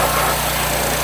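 An AGT hot water pressure washer runs close by with a loud, steady engine drone and hiss while it steams grease off equipment.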